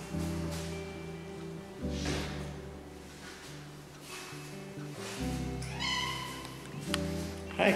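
A kitten outdoors near a house gives a few soft, faint meows over a low steady hum and light rustling, with one clearer call toward the end.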